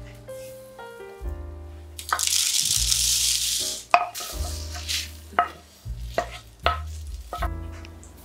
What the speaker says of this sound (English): Roast them for 2-4 minutes until you see light smoke or smell their